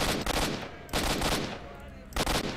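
Gunshots in the video game Stalker: Shadow of Chernobyl, three loud bursts of rapid automatic fire separated by short pauses, each with a ringing decay, close and dominant.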